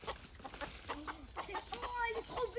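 Roosters calling their hens in a backyard poultry run: busy clucking and a few short crowing calls, fairly close, with some soft talk mixed in.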